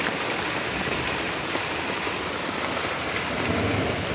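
Heavy rain pours onto a tent in a sudden downpour, a dense, steady roar of drumming drops that stays loud and even throughout, with no voices.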